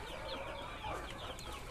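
KUB chickens clucking and murmuring together in a coop on an overcast day, a steady close chorus of soft clucks with no talking over it.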